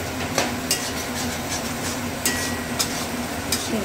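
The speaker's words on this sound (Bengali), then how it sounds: "আর এইভাবে নাড়তে রাখবো, কারণ তলা ধরে যেতে পারে" A spoon scrapes and knocks against a pot while egg chicken tarka is stirred, a few sharp clinks spaced irregularly over a low, constant background hiss.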